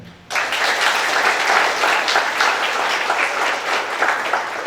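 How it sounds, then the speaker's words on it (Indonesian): Steady applause fills a graduation hall at a Catholic catechetical college in Samarinda, starting sharply after a short pause and holding at even strength for over four seconds. "Kita tepuk tangan."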